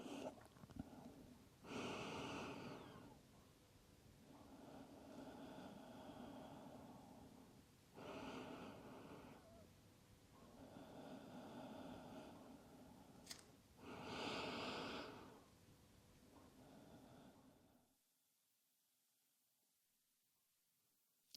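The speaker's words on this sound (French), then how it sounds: "Profonde respiration ici." Slow, deep breaths during a relaxing yoga practice in child's pose, several long airy inhales and exhales in a steady rhythm, close and clear over a quiet background, ending in near silence.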